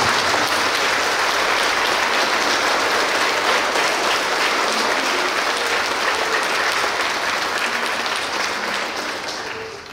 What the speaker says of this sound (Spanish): Damos un fuerte aplauso, ¿verdad?, a Santiago Apóstol en este día que estamos dedicándolo a él.